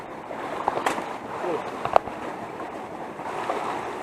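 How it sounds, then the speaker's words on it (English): Water rushes steadily at a mountain waterfall at the end of a hike, a constant broadband roar with a few faint knocks and distant voices. "This the waterfall?"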